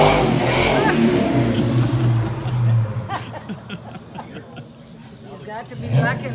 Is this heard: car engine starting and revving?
yes